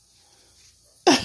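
Near silence broken at the end by one loud, close sneeze.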